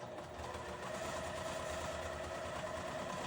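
A sewing machine stitches out a programmed buttonhole sequence, giving a close, steady mechanical whir with a rapid even needle rhythm that runs unbroken throughout, with no voices.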